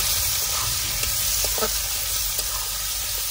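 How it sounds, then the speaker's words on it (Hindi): Steady loud sizzle of chili, garlic, onion and whole spices frying in hot oil, with a few faint crackles and stirring scrapes, no talking. "अभी चला इसमें कुछ खड़े मसाले ये चला भाई ये चला भाई मिर्ची लहसुन प्याज वगैरह सब"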